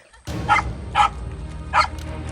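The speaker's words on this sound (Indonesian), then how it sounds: "Lolongan anjing sudah terdengar." Hunting dogs chasing monitor lizards in the central Java wilderness give three loud, short barks or bays, spaced apart, over steady outdoor background noise.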